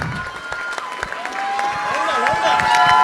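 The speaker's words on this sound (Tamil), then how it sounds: "உங்களுடைய பலத்த கரகோஷத்துடன் அவர்களை வாழ்த்துவதிலும் அவர்களுக்கு நன்றி சொல்வதிலும்" An audience at a Tamil school's teacher recognition ceremony claps steadily and builds in volume, with voices mixed into the applause.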